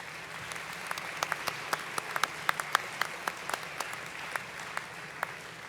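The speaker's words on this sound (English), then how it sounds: "Please give them a round of applause as they make their departure" An audience at a school graduation ceremony in Scottsdale, Arizona applauds the school band and orchestra, a steady, somewhat distant patter of many hands with sharper individual claps standing out.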